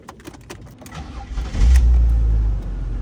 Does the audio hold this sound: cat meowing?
no